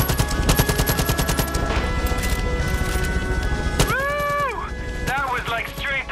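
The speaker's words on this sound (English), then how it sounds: "Bullets flying, explosions, a daring escape by a sexy pilot." Far Cry New Dawn gunfight: rapid bursts of automatic gunfire rattle loudly with dense impacts, followed by whining, sweeping tones, heard alone without talk.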